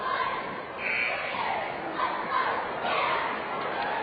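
Crowd in a basketball arena at a Somerset vs Southwestern game, a steady murmur of distant chatter and cheering that swells slightly at moments, continuous throughout with no clear single voice.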